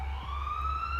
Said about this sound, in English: I got a soundboard request, and Barry needs the siren.